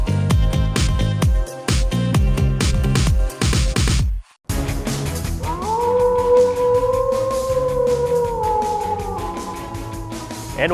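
A wolf howl sound effect from a college athletics app rises as a long, loud, sustained wavering howl, preceded by a few seconds of pounding rhythmic music, with no talk.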